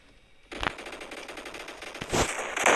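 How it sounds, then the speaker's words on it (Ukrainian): Automatic gunfire from a weapon in the Roblox video game, rapid bursts starting abruptly and continuing loud and dense, with sharper bursts toward the end. "Вау, достає автомат."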